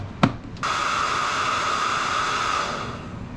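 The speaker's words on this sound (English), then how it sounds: "we're going to use my wife's hairdryer" A 1500-watt hair dryer running off a portable power station's inverter: a brief click, then a steady, loud whooshing roar with a constant whine that holds evenly to the end, no talk.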